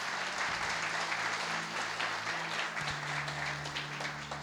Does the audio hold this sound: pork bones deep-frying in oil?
no